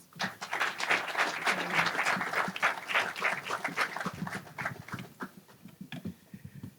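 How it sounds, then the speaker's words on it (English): Audience applause greets the vice mayor at a Long Beach Airport terminal roadway completion ceremony: dense, sustained clapping for about five seconds that thins into scattered claps near the end. "please give him a round of applause"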